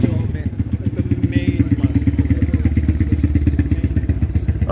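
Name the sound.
loud motorcycle passing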